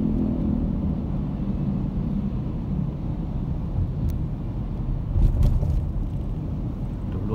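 A 22-wheel trailer truck drives past on a road where such trucks are banned, giving a loud, continuous low rumble that swells slightly midway, with no voices.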